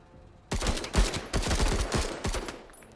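Rapid gunfire hammers away at a heavy tank in the video game Menace, a dense volley of sharp shots that starts abruptly and keeps firing for about two and a half seconds, close and loud.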